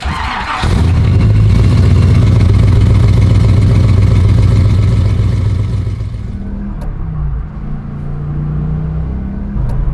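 A car engine pulls loudly and steadily as the car accelerates on the road, a sustained low drone that eases off slightly near the end.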